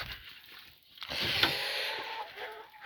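Hens clucking nearby, a soft scattered chatter of short calls over a steady rustling background.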